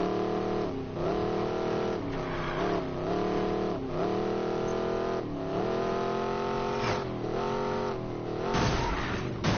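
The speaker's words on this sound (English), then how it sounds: "This car doesn't have a very good 0 to 60, but it gets there." Video game car accelerating through its gears, the engine note climbing and dropping back with each shift in a steady, continuous drone, followed by a brief skid-like burst near the end.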